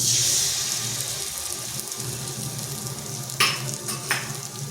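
An egg fries in a cleared space in the middle of a pan of snack mixture, giving a steady close sizzle. Two sharp utensil clinks come near the end.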